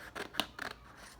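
Scissors cutting folded brown construction paper into triangle shapes, with a few short, faint snips and rasps close by.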